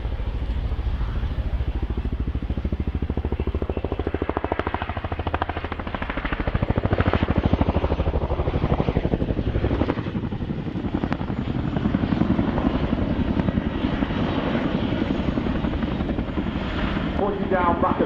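Boeing Chinook twin-rotor helicopter flying a display at the Royal International Air Tattoo, its loud, steady rotor thump and turbine roar continuous throughout, swelling slightly midway, with faint commentary underneath.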